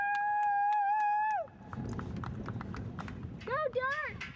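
Horse hooves clip-clop on the ground while a rider sorts cattle with a dog named Dart at Fort Klamath, steady and mid-distance, with a long whistle at the start and under a voice.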